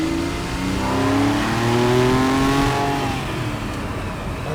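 Porsche 911 997.2 Targa 4S engine revving and accelerating, a loud, close mid-pitched engine note climbing steadily in pitch through the gears, then easing off, with no talking.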